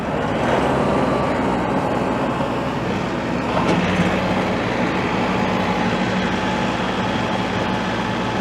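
A tractor engine revs steadily under load while driving a Dirt Dog RT Series rotary tiller, a dense continuous mechanical roar with a slight swell midway, loud and close, with no talking.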